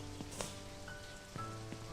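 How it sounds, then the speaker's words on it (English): Steady rain hisses over the scene in the video game Only Up, a continuous soft wash with faint tonal game sounds and brief accents layered on top, no talking. "I swear it didn't rain here a couple of times, and now it's pouring"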